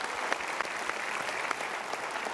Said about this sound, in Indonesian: sementara kita berikan tepuk tangan dulu.